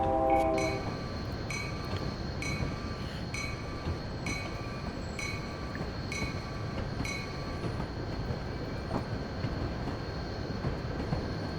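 A Train Simulator 2016 train pulls out of Aurora on the Chicago–Aurora line, a steady rumbling rail drone with a rhythmic series of short clicks and a faint high tone, continuous and fairly even throughout.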